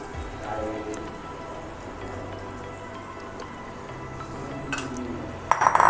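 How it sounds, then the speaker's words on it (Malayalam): Beaten egg poured into a hot pan of fried onion, ginger and garlic gives a steady close sizzle with faint dripping and a few light metal clinks near the end, no voices. "ഇനി നമുക്ക് ഇതിൽ നേരത്തെ നമ്മൾ തയ്യാറാക്കി വെച്ച മുട്ട ഒന്ന് ഇതിലോട്ടൊന്ന് നമുക്ക് ഒഴിച്ചു കൊടുക്കാം."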